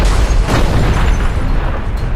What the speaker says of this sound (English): Ready the cannon!